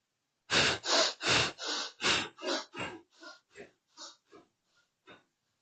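Bhastrika bellows breathing during a yoga session: a series of about eleven forceful, rapid breaths. They start loud and fade steadily softer toward the end, with quiet between bursts.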